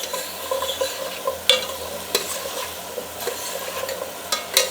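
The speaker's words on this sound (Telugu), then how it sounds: "మునక్కాయలు వేయించితేనే స్మెల్ వచ్చేస్తుంది" Drumsticks frying in a pan for sambar give a steady sizzle with repeated stirring scrapes and clinks throughout, close and moderately loud, with no voices.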